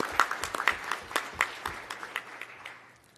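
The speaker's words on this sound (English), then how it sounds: "Please give yourselves a round of applause" Scattered audience clapping for law enforcement officers at a Polk County sheriff's briefing: a loose run of distinct claps that thins out and fades to near silence by the end.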